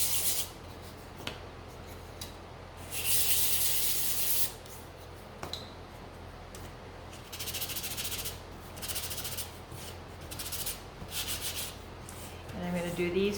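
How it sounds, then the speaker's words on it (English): Mini sunflower gnome pieces being sanded by hand, with bursts of close, dry scratchy rubbing coming in several separate spells between quieter pauses. "give these a quick sand."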